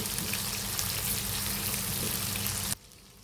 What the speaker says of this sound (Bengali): পেঁয়াজ মরিচগুলো ভেজে নিচ্ছি